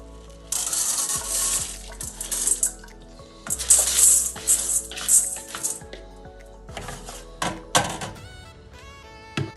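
Tap water runs and splashes in intermittent bursts as mung beans are rinsed in a container, with clinks and handling noises between the flows and no talking.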